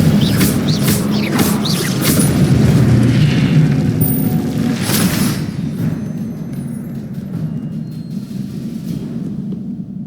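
An explosion from a Confringo spell in a Harry Potter magic video game: a loud, rumbling boom with crackling bursts that slowly fades into a lower roar.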